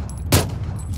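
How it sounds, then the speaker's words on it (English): A single loud, close gunshot fires from the player's own weapon in PUBG, one sharp blast over a low steady background hum. "That's me shooting."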